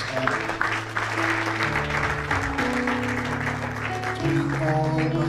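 Church congregation clapping steadily throughout, a dense wash of hand claps over sustained organ or keyboard chords, fairly loud and continuous.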